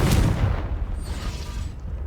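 A Confringo fire spell bursts in a Harry Potter game, a loud booming blast at the start trailing into a rumbling, crackling decay with no speech.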